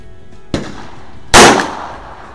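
Hi-Standard Supermatic Citation pistol fired at targets outdoors, two sharp loud reports about a second apart, the second louder with a short ringing tail.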